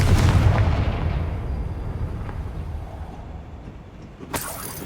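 Confringo spell explosion in the game Hogwarts Legacy, a heavy booming blast right at the start that rolls off into a long fading rumble, followed by a sharp smaller pop near the end.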